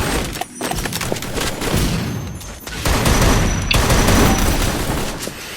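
Rapid automatic gunfire in a Free Fire mobile game match, dense continuous bursts of shots with booming impacts, loud and close throughout.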